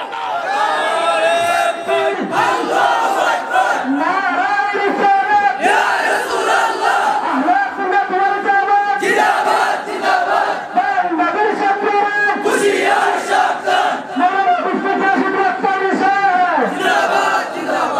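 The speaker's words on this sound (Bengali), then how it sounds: "স্লোগান হবে, স্লোগান দাও" A large crowd at a Bengali religious gathering roars loud, sustained slogan chants in unison, voices rising and falling in repeated waves across the whole stretch, with a lead voice calling between responses.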